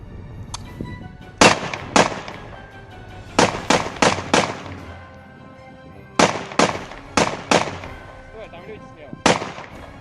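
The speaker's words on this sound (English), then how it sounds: "The Russians shoot at a damaged and abandoned Humvee and wonder why the windows don't break." Sharp gunshots fired at an abandoned, damaged Humvee, ringing out in close, loud clusters of three to five rapid cracks separated by short pauses.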